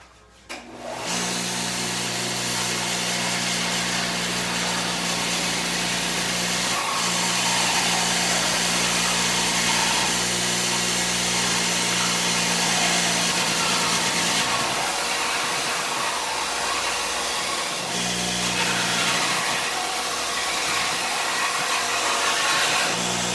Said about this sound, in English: So I'll go over to the belt sander here real quick and sand a little bit of this off